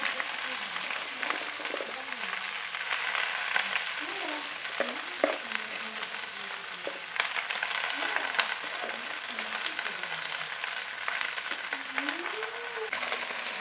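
Sawi samhong greens stir-frying in a pan, a steady close sizzle and crackle with scraping stirs throughout, while a voice talks over the cooking.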